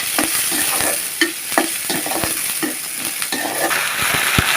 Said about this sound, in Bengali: প্রথমে পেঁয়াজটা একটু লাল লাল করে ভাজে নিতে হবে।